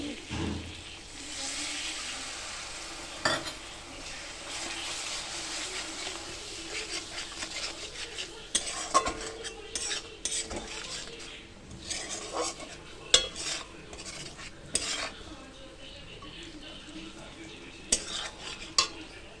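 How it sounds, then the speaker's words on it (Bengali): Masala paste with salt and spice-soaking water is stirred and fried in a pan for a vegetarian paneer dish. A spoon scrapes steadily with repeated soft clinks against the metal over a low, quiet bed of cooking noise. "আস্তে আস্তে মশলাটা ভালো করে কষিয়ে"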